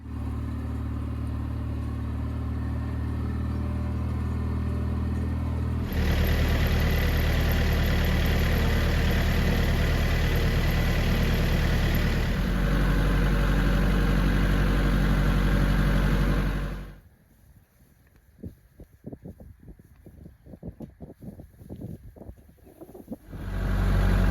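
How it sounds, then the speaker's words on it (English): A steady tractor engine idling close by, its low rumble shifting pitch a couple of times before it cuts off, leaving faint clatter. "now I got to get the hay spear on the front of the tractor"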